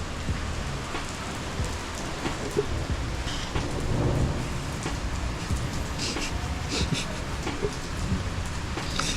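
Steady broadband rushing of a mountain torrent, loud and continuous throughout, with no voices.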